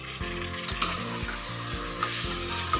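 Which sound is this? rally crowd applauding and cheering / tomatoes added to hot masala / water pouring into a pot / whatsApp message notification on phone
tomatoes added to hot masala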